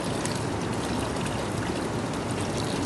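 Rinse liquid pouring out of a rusty motorcycle gas tank, a steady splashing stream at a constant level, close and fairly quiet, with no speech.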